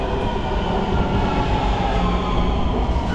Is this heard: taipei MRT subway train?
yes